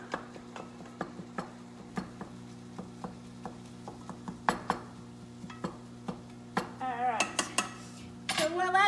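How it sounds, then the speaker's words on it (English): A utensil stirs steak seasoning in a bowl, clinking against the sides in a steady, regular tapping rhythm that quickens into faster scraping toward the end, close and fairly quiet. "So, just going to stir this up."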